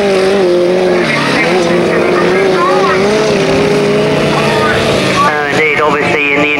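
Racing sidecar outfits scream around a grasstrack, their engine whine rising and falling as the power comes on, loud and close, with a commentator talking over the noise throughout.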